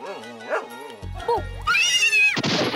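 A dog in a Marathi comedy sketch gives a few short barks and yips, then a higher whining cry. The sounds are close and moderately loud, mixed with voice-like tones.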